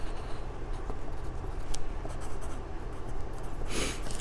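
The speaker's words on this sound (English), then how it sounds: "So the first thing we always do is to write our name." A name being written on a calendar during a preschool circle time, heard as faint, continuous marker scratching under steady room noise, with a brief brighter squeak near the end.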